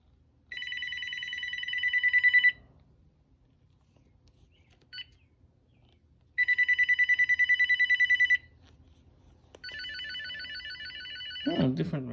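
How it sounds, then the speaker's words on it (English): A Uniden XCA4500 cordless phone plays electronic ringtones in three separate bursts, each a couple of seconds long, with quiet gaps between; the last burst has a different, warbling tone. "Yeah, different ringtones, okay."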